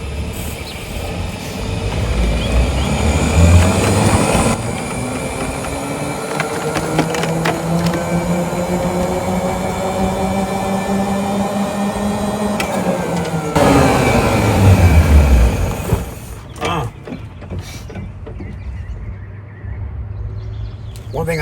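An EZGO RXV golf cart drives along with a running-issues fault, its electric motor whining as the pitch rises, holds and falls, with rattles and clicks. Someone talks over it and near the end it goes mostly quiet.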